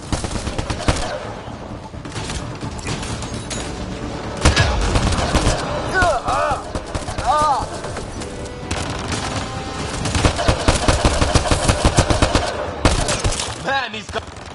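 Dense, sustained automatic gunfire from squad weapons in a Mass Effect Andromeda battle against a swarm of enemies, rapid bursts running nearly nonstop with brief weapon whines, while voices shout over the shooting.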